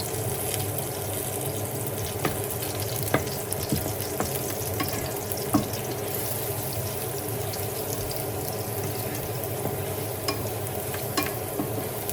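Garlic frying in a pan for binagoongang kamatis, a steady, close hiss of sizzling oil with occasional scraping stirs and small pops, constant in level with no talking.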